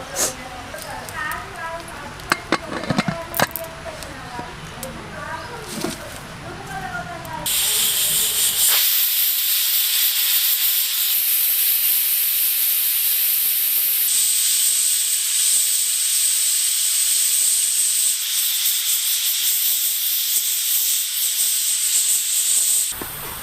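A pressure cooker whistle blasts loudly with hissing steam while cooking mutton curry, a long sustained high-pitched release that follows a stretch of kitchen clatter and brief speech.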